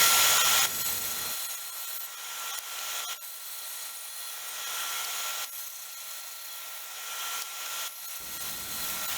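A power saw rips a scrap block of lumber into thin strips for HO scale lumber loads, a loud, close, steady whine that pauses between passes with a lower drone beneath each cut.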